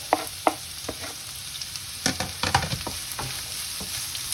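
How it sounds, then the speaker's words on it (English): Finely chopped onions dropped into a pan to cook over medium heat, a steady sizzle with repeated clicking and scraping stirs from a utensil, close and fairly loud. "In go the onions."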